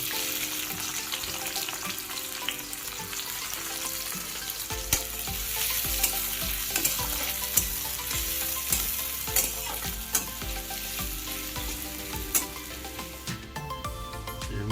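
Green chilli and onion fry in hot oil in a pan for an Odia recipe, with a steady loud sizzle and repeated scraping stirs knocking through it the whole time.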